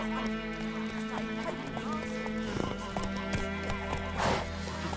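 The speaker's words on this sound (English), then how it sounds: "Run, Roach" A horse gallops in the video game The Witcher 3, its rapid rhythmic hoofbeats carrying throughout with a whinny and other game sounds mixed in.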